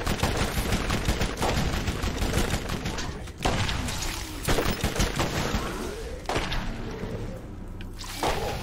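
Rapid bursts of pistol gunfire from a three-round burst weapon in the video game Borderlands, dense repeated shots packed together across the whole stretch, loud and close with short pauses between volleys.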